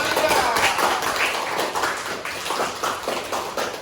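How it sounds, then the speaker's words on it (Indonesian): Students applaud in a classroom, a dense burst of many hands clapping that stays steady and fairly close for a few seconds, fading slightly toward the end. "Tepuk tangan yang meriah"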